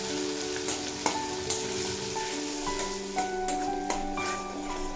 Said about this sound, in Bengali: খুব ভালোভাবে ভেজে কষিয়ে নেব যাতে মশলার কাঁচা গন্ধটাও চলে যায় আর টমেটো বেশ নরম হয়ে যায়।